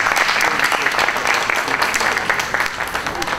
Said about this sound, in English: give one more round of applause to our winners